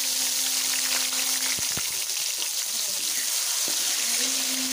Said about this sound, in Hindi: अब यह जो मेरे पास दाल है, इसको हम इसमें डाल देंगे।